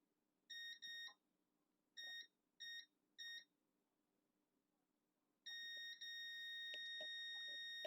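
A multimeter in continuity buzzer mode beeps while probing a shorted line on a Samsung M11 phone board: five short electronic beeps in an uneven pattern, then a sustained continuous tone, clear against a quiet room.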